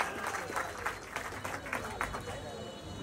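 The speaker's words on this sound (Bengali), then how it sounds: "তো স্যারের জন্য আমরা সবাই একটু জোরে হাততালি দিতে পারি না?" An audience applauds the managing director at a CF Moto motorcycle showroom grand opening, with dense, steady clapping from a sizable crowd that continues throughout while voices carry underneath.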